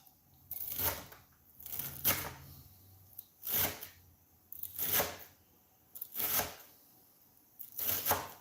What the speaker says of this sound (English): when you chop your own parsley